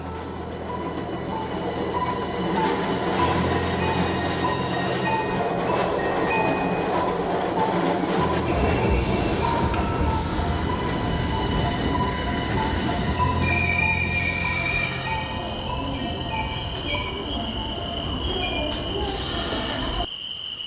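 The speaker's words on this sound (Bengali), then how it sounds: "অভয় এখন একটা লাশের সাথে খালি ট্রেনে যাত্রা করছিল।" A train runs on rails with a continuous rolling rumble and clatter, and brief high wheel squeals break through near the middle and end.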